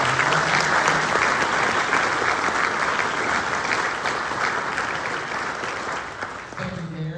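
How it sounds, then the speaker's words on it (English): Audience at a mayor's city update event applauding in a dense, steady burst of clapping that holds for several seconds and tapers off as a voice begins at the end. "let's give a round of applause"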